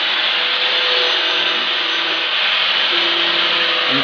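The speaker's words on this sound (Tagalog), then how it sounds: "Instead na katam yung ginagamit, yan grinder na lang yung ginagamit." An angle grinder fitted with a sanding plate works a piece of wood, giving a loud, steady, unbroken whirring roar that holds at the same level throughout.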